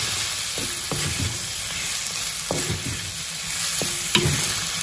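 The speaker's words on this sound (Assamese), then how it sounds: "এতিয়া এনেকে প্রায় 5 মিনিটমান সময় ভাজিব লাগিব" Mutton pieces fry for a Nepali-style curry in a pan, giving a constant loud sizzle close up, with several scraping stirs spaced about a second apart and no talking.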